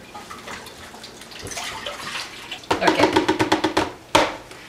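Chicken broth and vegetable broth are poured into a cooker: a quiet start, then a loud gurgling, glugging stream with rhythmic pulses, a brief pause and a final splash.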